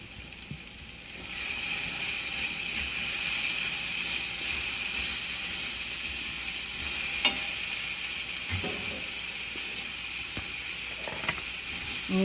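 Ginger and chilies fry in a pan with a steady, close sizzle and hiss, broken by a few brief stirring clicks and scrapes; no one speaks.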